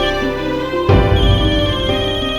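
A phone ringtone rings loud and close for an incoming call, a steady tonal melody that shifts partway through into a fuller, busier pattern, with no talk over it.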